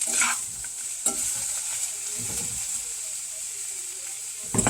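Thinly sliced onions and peppers for chicken fajitas sizzle in a pan, a low steady hiss with a few stirring scrapes and a louder burst at the end, while a person talks faintly.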